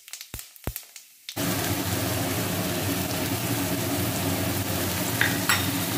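Whole cumin seeds and a bay leaf hit hot oil: after a quiet second with a few small clicks, a loud, close, sustained sizzle bursts in and continues evenly to the end.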